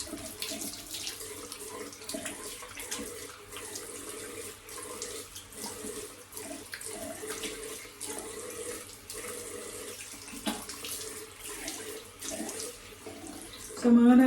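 Water runs steadily from a tap while someone rinses off a cleanser at a sink during a night skincare routine, a continuous close splashing flow lasting throughout with a brief louder burst at the end.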